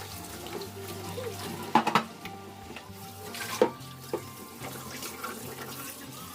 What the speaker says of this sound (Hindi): माँज के इसे धो रही हूँ